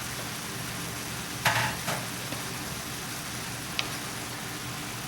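Fresh Romano beans cook in a hot pan with a steady, close sizzle and hiss, broken by a few brief clatters as they settle or are stirred.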